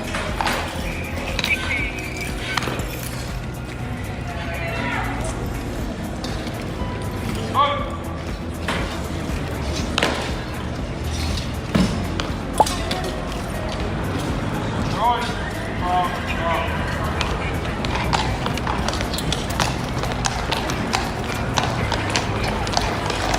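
Hooves of a King's Guard horse clip-clop on pavement at a royal guard post, irregular near footfalls over a busy crowd-filled background.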